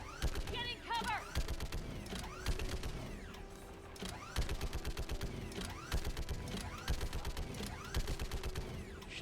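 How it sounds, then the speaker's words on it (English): Mass Effect 3 Legendary Edition combat: dense, rapid bursts of gunfire mix with heavy booming shots from a giant turret cannon, forming a continuous, chaotic barrage of sharp impacts throughout. "there's just like a lot of noise coming from a giant turret cannon"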